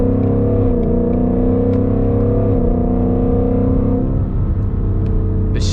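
Ford Mustang with a manual gearbox accelerating hard from the cabin, a loud rising engine drone broken by quick gear shifts with a short pitch drop at each change, and faint wind noise.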